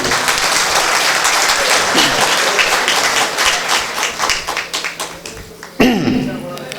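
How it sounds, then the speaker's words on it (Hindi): Audience at a Tilhar mushaira (Urdu poetry gathering) bursts into loud, close applause that rolls on and slowly thins into scattered claps, then a sharp fresh burst erupts near the end. "एक बार अपने लिए और सहाय साहब के लिए जोरदार तालियां बजा दीजिए।"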